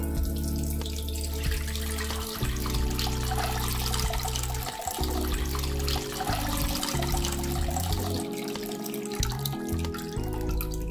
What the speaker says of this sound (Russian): Сейчас мы сольем всю жидкость и внимательно все разглядим